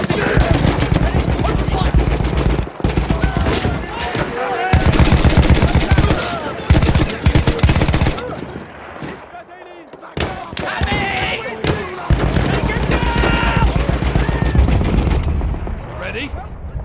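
Dense Battlefield 1 gunfire, loud and near: rapid machine-gun bursts and overlapping shots keep up an almost unbroken clatter with only a few brief gaps.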